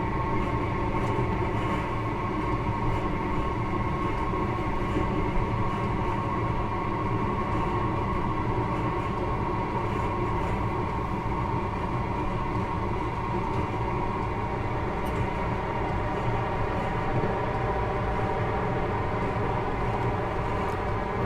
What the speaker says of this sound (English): I'm now going to shut off the power as we reach this overbridge, just to allow the train to coast